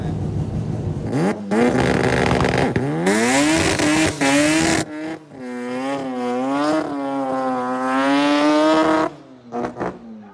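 A turbocharged Series 4 Mazda 13B rotary engine revs hard several times, rising and falling in loud, buzzing sweeps before dropping off with a few sharp pops.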